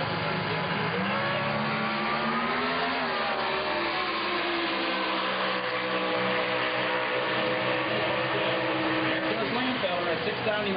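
An NHRA Competition Eliminator drag car at the 1997 US Nationals makes a loud, sustained engine roar with shifting harmonics across the whole run, dipping briefly and climbing again, heard alongside an announcer's commentary.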